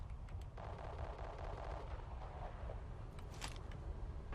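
Dense, continuous gunfire from an online FPS match in Black Squad, loud and steady throughout with rapid overlapping shots and a sharper burst near the end, no voices.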